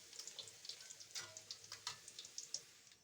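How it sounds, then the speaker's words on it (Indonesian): Tempeh deep-frying until dry in a generous amount of hot oil gives a close, steady sizzle broken by frequent sharp crackles and pops, with no voices. "kemudian saya goreng sampai kering karena di sini saya menggunakan minyak yang agak banyak."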